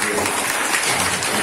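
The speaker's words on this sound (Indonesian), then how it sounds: "Tepuk tangan dulu." Brief applause from schoolchildren at a school ceremony in Indonesia, a dense patter of clapping lasting just over a second, steady and moderately loud with no pauses.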